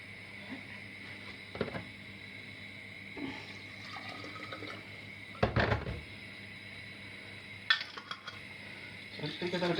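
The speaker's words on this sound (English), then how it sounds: "And again, I'm going to rinse that bottle out." Tap water runs into a glass passata bottle in a kitchen sink, a steady hiss broken by several sharp clinks and knocks of the bottle, with a voice speaking in places.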